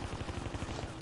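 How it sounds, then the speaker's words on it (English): Gunfire in the World War II shooter game Honor & Duty D-Day, a dense run of rapid, loud low thumping shots packed closely together across the whole moment, with no talking over it. "Oh, somebody sniped me."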